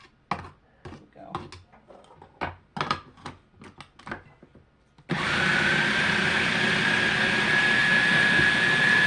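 Small food processor chopping ham salad ingredients, first a series of quick clattering taps and knocks, then the motor switches on into a loud steady whirring hum that runs to the end.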